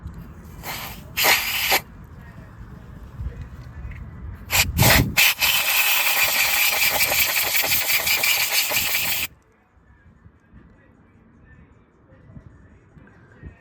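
Compressed air hisses loudly in short blasts and then one long sustained burst, cleaning debris out of a spark plug well on a first-generation Kawasaki KLR650 motorcycle, before cutting off to quiet.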